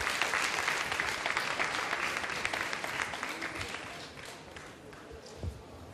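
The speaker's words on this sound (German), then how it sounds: "Ein Applaus bitte." An audience at a post-screening film talk applauds a visual effects artist, with a full, dense round of clapping that gradually thins and softens toward the end.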